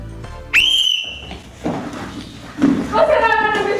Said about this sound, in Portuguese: Na hora que eu apitar, vai estar valendo 1 minuto